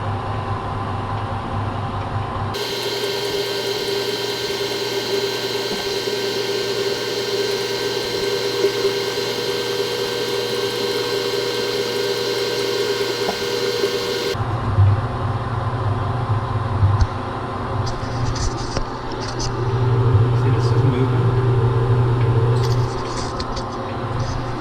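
Lathe running steadily while chasing threads on all thread with a DIY holder, a constant close mechanical hum and whine that shifts in tone partway through, with intermittent rattles and clicks from the cut, no talking.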